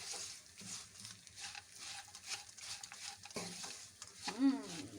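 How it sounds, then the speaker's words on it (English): Walnuts being stirred and roasted in ghee in a pan over a low flame, heard as quiet, intermittent scraping and soft sizzling with a few louder spoon knocks, faint overall. "Roast it for 2 minutes on low flame."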